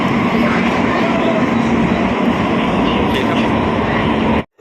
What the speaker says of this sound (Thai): ก็มาขึ้นรถไฟ ใต้ดินนะครับ